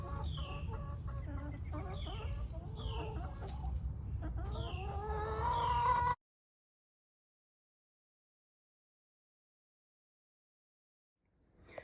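Hens cluck and squawk close by in a series of throaty calls over several seconds, then go quiet, leaving near silence.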